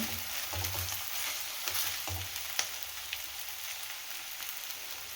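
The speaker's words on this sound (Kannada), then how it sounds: "ಈಗ ಇದನ್ನು ಸ್ವಲ್ಪ ಈ ರೀತಿ ಮಿಕ್ಸ್ ಮಾಡ್ಕೊಳ್ತಾ ಇದ್ದೀನಿ" Vegetable hakka noodles stirred and tossed in a frying pan, giving a steady close sizzle of frying with scraping stirs and soft knocks throughout, no voices.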